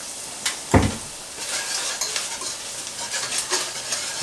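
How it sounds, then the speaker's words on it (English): A quick shot of oil hits a hot pan while turkey casserole cooks, producing a bright, close sizzle after one sharp metallic clatter, and the hiss continues steadily to the end. "And just give it a little quick shot of oil here."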